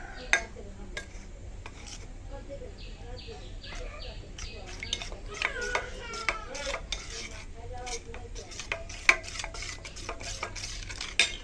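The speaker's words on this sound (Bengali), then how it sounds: "তেল গরম হতে হতে আমি এই মশলাটা গুলিয়ে নিচ্ছি" Close, repeated scraping and clinking of a spoon mixing a spice paste for tilapia in a bowl while oil heats, with a faint sizzle and occasional chirps in the background.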